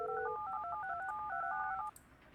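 Telephone dialing tones in the building-management game Project Highrise, a quick run of about a dozen crisp two-tone keypad beeps in an even rhythm that ends abruptly in near silence.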